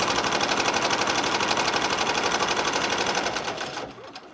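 An embroidery machine stitches an appliqué design onto a fleece scarf, a steady, rapid mechanical whirring with a fast even needle rhythm, close and fairly loud, running throughout before stopping abruptly near the end.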